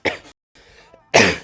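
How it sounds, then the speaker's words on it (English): A single person coughs close to the microphone, a short harsh burst, a quieter breathy pause, then a second louder cough, with no talking. "I don't know where that cough came from."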